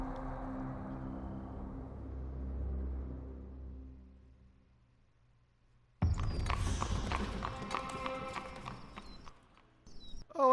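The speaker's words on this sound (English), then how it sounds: "The horse at the door." Horse hooves clip-clop in the Sherlock Holmes The Awakened video game, with a low rumble fading before a sudden loud run of hoofbeats and movement near the end.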